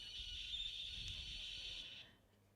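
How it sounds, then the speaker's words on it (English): A shrill, squeaky buzzer signalling the start of a sheepdog trial sounds steadily for about two seconds over low outdoor rumble, then cuts off. "That squeaky sound is our buzzer"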